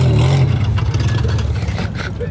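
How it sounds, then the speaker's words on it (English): A Nissan Cedric wagon with a hole in its exhaust manifold runs at a classic car festival, giving a close, loud, rough low rumble that pulses unevenly and eases slightly toward the end, with faint voices around. "the Cedric wagon is sounding a little bit too fruity due to a hole in the exhaust manifold."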